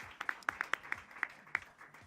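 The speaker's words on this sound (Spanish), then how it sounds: "Un aplauso para los comentaristas" A few people clap for commentators on a debate program, sparse distinct hand claps at an irregular pace, quiet and thin rather than a full crowd.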